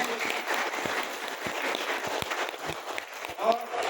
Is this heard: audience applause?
yes